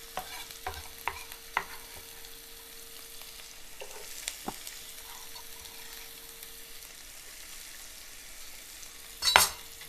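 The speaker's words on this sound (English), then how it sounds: "while we are sauteing our onions" Onions sauté in a pan with a faint, low sizzle beneath sparse clicks and knocks of a utensil stirring, ending in a short louder scrape near the end; quiet and close, no speech.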